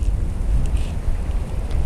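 Strong wind buffets the microphone in a steady low roar with small gusts, loud and close, with no voices, outdoors while fishing.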